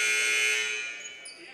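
A long, loud electronic buzzer blares in a college basketball arena, holding steady before fading toward the end, while a voice talks faintly underneath.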